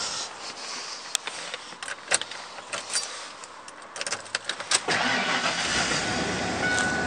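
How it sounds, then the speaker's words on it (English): A cold 1994 Ford Bronco engine cranks and fires up after a jingle of keys, settling into a steady, fairly loud idle near the microphone for the last couple of seconds. "See, it fires right up, gauges come up, all the lights come on and go out."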